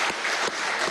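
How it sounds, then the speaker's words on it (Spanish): An audience claps at a televised Venezuelan presidential program, a brief burst of dense crowd applause with no voices over it. "Hay que aplaudir eso."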